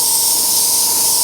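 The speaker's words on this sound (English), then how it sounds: "you can hear that compressor only kicks in when needed" A Sparmax TC 620X airbrush compressor runs with a steady, close hiss of airflow and a faint constant hum, holding an even level for the whole brief moment with no voices.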